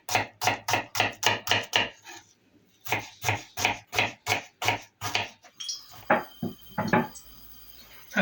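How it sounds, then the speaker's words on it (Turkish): Quick, even knife chops through half an onion on a cutting board come in two steady runs separated by a brief pause, ending in looser clatter. "Arkasından şöyle bir yarım boy soğanımızı doğrayacağız."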